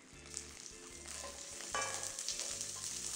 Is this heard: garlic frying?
yes